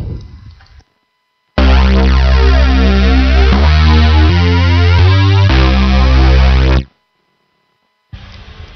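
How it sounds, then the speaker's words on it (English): A fat, distorted synth bass line plays alone, thick and loud with a chorus-like sheen, running for about five seconds between short stretches of quieter sound, with changing sustained notes. "we have a bass line with like a synth bass sound, kind of a fat sound going on here"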